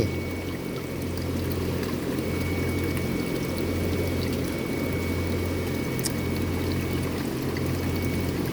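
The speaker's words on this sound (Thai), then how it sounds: "เสียงดังๆนั่นก็คือเสียงพัดลมนะครับ เสียงพัดลมเกยบพัดลมแอร์ครับ พัดลมในฟาร์มนะครับ" A steady, loud roar of large ventilation fans in a marine fish farm runs without pause, with a low hum beneath and a rushing, watery hiss throughout.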